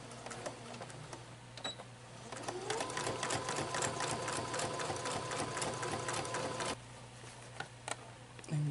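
A sewing machine stitches a fabric face mask in a steady, close whirring run with rapid needle ticking, pausing briefly near the end before starting again.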